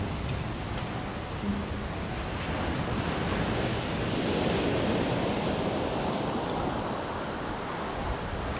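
Ocean waves wash in with gusting wind, a continuous moderate surf roar swelling slightly midway, with no voices.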